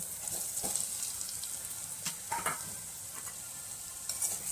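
Boiled potato being stirred into a spiced Kolhapuri misal potato curry in a pan, with soft scraping stirs and a faint sizzle, a few clinks of the spoon against the pan, and no talking.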